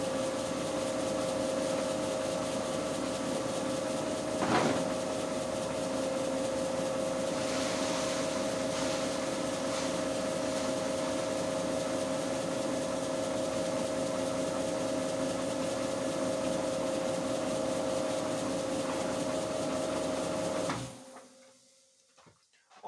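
A 500 kg feed mixer runs steadily, mixing pig feed with peas, giving a constant mechanical hum with rubbing and rattling. It cuts off abruptly near the end, leaving near silence.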